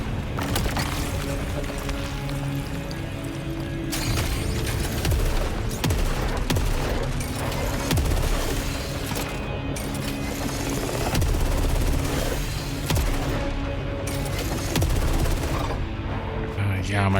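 Dense gunfire fills the video game Saros in a marsh setting: continuous loud rattling shots and bursts with heavy low rumble, interrupted only by brief gaps throughout.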